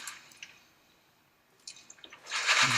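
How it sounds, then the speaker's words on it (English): Macaroni elbows tip into a pot of chicken soup: a few quiet drips and soft splashes, then a louder rattling, splashing rush as the pasta goes in near the end. "And we'll pour some of those in."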